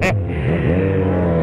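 A Kawasaki Z1000 motorcycle fitted with a racing kit revs loud and close, a steady high engine roar with a rising and falling pitch sweep over a short burst.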